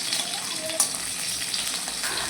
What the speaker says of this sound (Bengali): প্রায় হয়েই গেছে মাছ ভাজাটা